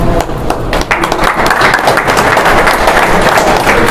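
Audience clapping at a Samajwadi Party community event in Aurangabad, a loud, dense and steady burst of many hands that holds for several seconds without a break.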